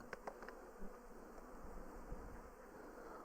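Angry honey bees swarm and buzz around a hive just opened after its winter wraps come off, a steady, fairly faint drone with a few sharper flybys close by, no talk.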